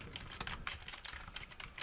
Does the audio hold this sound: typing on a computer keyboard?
yes